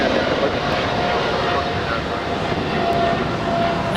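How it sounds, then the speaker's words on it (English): A United Boeing 777-200ER airliner takes off from Los Angeles International Airport, a steady, loud engine roar filling the air throughout with no break in intensity. "And that is United 3040 heading to Houston. It's a 777-200ER."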